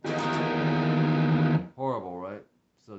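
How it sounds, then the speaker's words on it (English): A distorted electric guitar chord rings out harshly for about a second and a half with the unmuted sixth string clashing in it, followed by someone speaking briefly. "If you accidentally hit it and it's not muted, check out how it destroys the chord."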